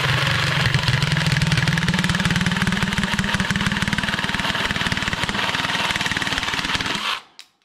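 A Parkside cordless reciprocating saw runs at full speed while cutting, giving a loud, steady, rapid buzzing drone that holds for about seven seconds and then winds down abruptly to silence.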